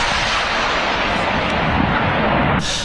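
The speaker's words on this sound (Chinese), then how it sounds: "从陆地对海面上轰炸马里乌波尔的军舰，发射火箭" Rocket and artillery fire in the Ukraine war, launched from land at warships off Mariupol: a sustained, loud, roaring blast that fills the whole clip and then cuts off sharply near the end, with no talking.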